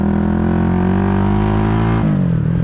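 A 1986 Honda GB250 Clubman single-cylinder motorcycle engine revs steadily high and close, then drops back sharply near the end.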